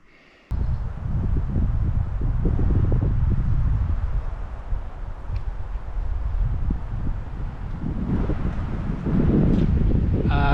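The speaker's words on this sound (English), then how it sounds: "Well, that wind suddenly picked up." Wind suddenly gusting at a lakeside campsite hits the microphone with heavy, rumbling buffeting that starts abruptly and stays loud and close throughout, swelling again near the end.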